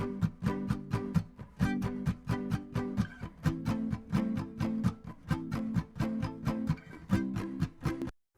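Two acoustic guitars strum together, one steady while the second pumps and ducks rhythmically on the downbeats, swelling on upbeats in a sidechain-style pulse; close, full and continuous with no talking.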